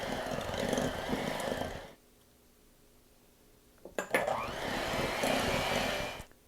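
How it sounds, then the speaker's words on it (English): An electric mixer blending sugar for lemon poppy seed muffins whirs loudly for about two seconds, stops, then starts again with a clatter and runs steadily before cutting off near the end. "I'm just going to blend them together until they're nice and creamy"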